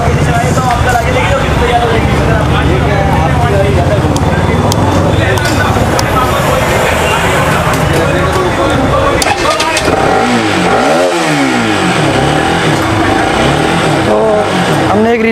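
A Bajaj Pulsar RS 200 motorcycle engine starts after a relay repair and keeps running, a steady close rumble with rising revs near the end, while a person talks over it.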